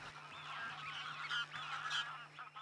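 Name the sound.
greylag geese honking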